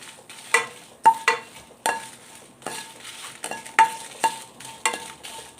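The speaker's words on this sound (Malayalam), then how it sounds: "ചില്ലി ഫ്ലേക്സ് തയ്യാറാക്കാൻ വേണ്ടിയിട്ടാണ് ഈ മുളക് ഒന്ന് ചൂടാക്കി എടുക്കുന്നത്" Dry red chilies toasting in a pan for homemade chili flakes, stirred with a utensil that scrapes and clinks against the metal in uneven bursts over a soft, steady sizzle.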